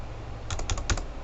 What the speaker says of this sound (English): all you need to do is just click and start typing,